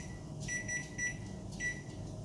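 A kitchen timer gives a few short, faint electronic beeps in a loose rhythm while someone cooks tteokbokki, against quiet kitchen background noise.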